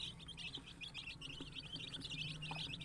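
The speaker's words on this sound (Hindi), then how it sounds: "ये चिक्स हैं माशाल्लाह, अभी 5 दिन के हैं।" Five-day-old Aseel chicks make faint, continuous high peeping chirps, a steady run of small calls at low level with a soft background hum and no talk.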